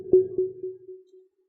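A live-coded synthesizer note through an echo effect, a short plucked tone repeated in evenly spaced, steadily fading echoes, clean and alone.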